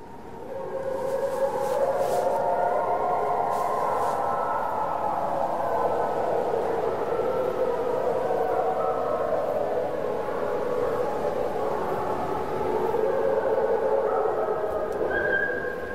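Wolves howl in the distance at night, long overlapping wavering cries that rise and fall together as a chorus over a quiet background, with no other sounds intruding.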